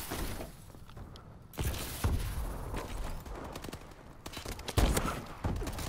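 Gunfire in the video game Call of Duty: Advanced Warfare comes in several separate bursts and sharp shots that rise and fall over a busy game soundscape, with the loudest cracks near the middle and toward the end.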